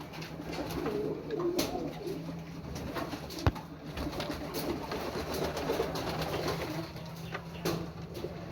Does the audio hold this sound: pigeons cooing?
yes